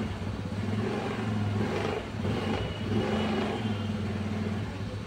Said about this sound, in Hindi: ये गड़गड़ की आवाज़ ना, एक गड़गड़ सी आवाज़ जो आती है पीछे से, जो क्लच होते हैं ना वहाँ से शुरू होकर यहाँ तक हैंडल तक आती है